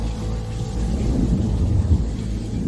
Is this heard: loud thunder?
yes